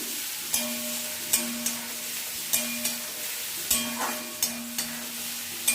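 Whole spices for an egg and fennel dish fry in a pan, with a light sizzle broken by regular sharp spatula taps and scrapes roughly every half second, close and without speech.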